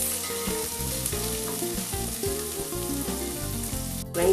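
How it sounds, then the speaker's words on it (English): Rice frying in a pot with oil, a dense continuous sizzle heard up close with occasional light stirring, the grains separating in the pot. "Keep stirring from time to time while you're frying the rice."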